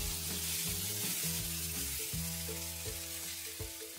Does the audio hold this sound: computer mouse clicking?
no